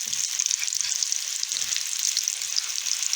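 Stuffed meat cutlets frying in a pan, a steady bright sizzle with faint intermittent pops and stirring, heard from a short distance and without talk.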